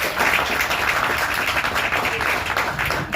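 Dense audience applause at a Tamil movie audio launch event, continuous and even from start to finish with no talk over it.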